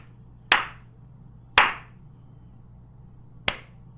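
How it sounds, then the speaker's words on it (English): Three separate hand claps ring out close and sharp over a low steady hum, the first two about a second apart and the third after a longer pause, with no talking. "Still clapping."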